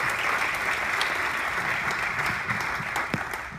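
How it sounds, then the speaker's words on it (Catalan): Audience clapping welcomes a speaker at a political forum, a full, even burst of applause from a room of people that stays strong for several seconds before starting to ease, with a few sharper individual claps standing out. "Us demano un fort aplaudiment per l'Àngel"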